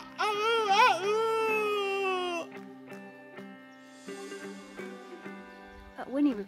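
A person imitates a local cockerel with a loud, drawn-out vocal crow near the start, then quieter wavering cries and a brief final crow-like call, close to the microphone.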